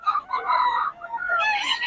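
A young stag gamecock crows close by, a clear, loud cock-a-doodle-doo with a harmonic, wavering call rising and breaking over about two seconds.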